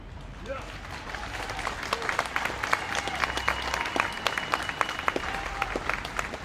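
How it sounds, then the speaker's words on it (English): A crowd at an animal rights march claps and applauds steadily, dense overlapping hand claps building up and continuing throughout, with a brief voice at the start. "That's right, give yourselves a clap, you deserve it."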